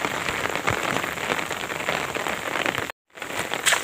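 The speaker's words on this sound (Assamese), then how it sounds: "কেনেকুৱা ধুলাই বৰষুণ দিছে এতিয়ালৈ" Heavy rain pours down on fields and a roadside, a loud steady hiss of drops striking surfaces, broken by one brief cut to silence before resuming.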